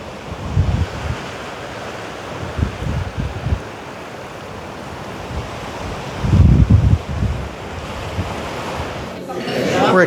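Ocean surf and gusting wind along a seaside promenade and park, with low rumbling wave surges rising and falling over steady broadband wash, plus some wind buffeting on the microphone.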